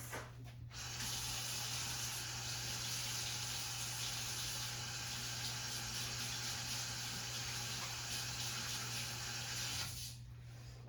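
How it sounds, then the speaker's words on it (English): A kitchen tap runs steadily for about ten seconds while hands are washed during soup preparation. The water sound is an even, close rush that starts and stops abruptly, with no talking. "I'm going to wash my hands"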